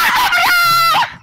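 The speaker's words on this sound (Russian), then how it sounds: "Тихо, что ты кричишь?" A person lets out a loud, sustained, high-pitched scream at close range while playing Minecraft, cutting off abruptly at the end.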